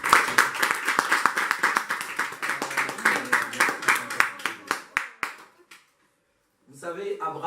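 Congregation in a Sunday church service clapping in steady rhythmic applause for about six seconds, a full hall of hands, then falling silent before a voice resumes speaking.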